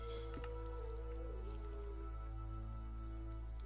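Flowing water in the game Minecraft, a faint liquid dripping and squishing over a steady low game hum and background tones, with a few brief clicks early on.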